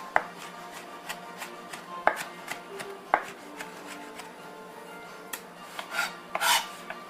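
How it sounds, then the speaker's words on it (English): Knife chopping food on a cutting board for a pasta sauce, several sharp distinct strikes spaced irregularly at first, then a quicker cluster of cuts near the end, close and fairly loud with no talking. "Chop it up."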